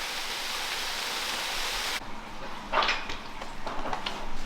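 Steady broadband rushing of a waterfall inside an abandoned slate mine fills the space, dropping in level partway through, with splashy bursts and echoes continuing afterward.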